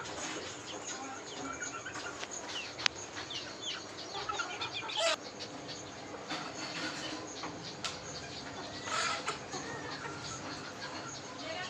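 Chickens, including young cockerel chicks, cluck and call intermittently in a farmyard over a constant background hiss, with occasional sharper squawks standing out.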